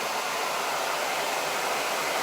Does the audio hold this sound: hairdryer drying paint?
yes